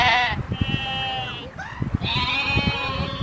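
A startled goat bleats in two long, wavering cries, loud and close, separated by a brief pause, with some low background thumps and faint human sounds.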